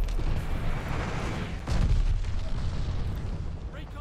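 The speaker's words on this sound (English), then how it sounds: "Enemy glide bomb coming in hot!" A glide bomb detonates in Call of Duty: Vanguard, a heavy booming blast swelling up near the two-second mark over a constant rumbling battlefield din, the low roar lingering afterward.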